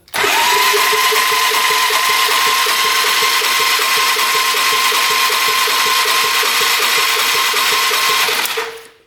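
A free 6x6 ATV engine cranks steadily with the throttle held open, a loud, even starter-driven churn with rapid regular pulses that never catches, running about eight seconds before cutting off abruptly.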